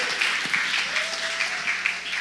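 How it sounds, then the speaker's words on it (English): Audience applause in a church hall during a Sabbath-themed gathering, a steady wash of clapping from a crowd lasting a couple of seconds at moderate level, with a faint sustained tone passing underneath. "Now, come on, if we applaud properly."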